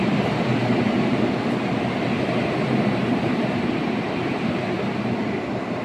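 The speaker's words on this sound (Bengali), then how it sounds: "গাড়ি ছেড়ে দিল দেখুন চলে যাচ্ছে" An underwater metro train in Kolkata pulls out of the station, a steady loud rumble of wheels on rail with broad roar filling the whole stretch, continuous and close with no voices.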